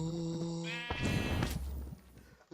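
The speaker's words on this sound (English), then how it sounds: "and here's another sheep" A sheep in Minecraft gives a single wavering bleat up close, followed by a burst of rustling noise and then quiet.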